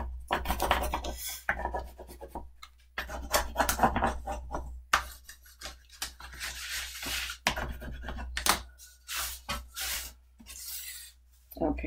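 Cardstock being burnished for a Christmas mini album, giving close, dry rasping rubs in repeated bursts with short pauses between strokes, no talking.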